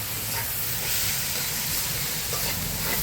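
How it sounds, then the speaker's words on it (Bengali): Finely chopped onions frying in hot oil at a rooftop picnic give a steady, loud, close sizzle and hiss that holds evenly without a break. "এবার পেঁয়াজটা আমরা আস্তে করে দিয়ে দেবো।"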